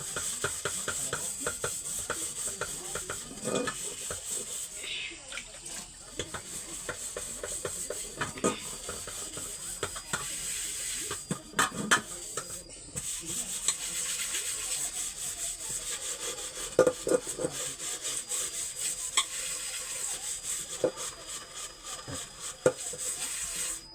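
A cooking pot being scrubbed by hand with coir fibre in a small home kitchen, giving a continuous rough rubbing and scraping with repeated strokes, close and fairly steady, with no talking over it.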